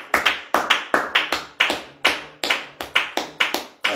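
A church congregation at morning prayer claps their hands together in a lively rhythm of sharp, loud claps in quick pairs and bursts, close by with no voices.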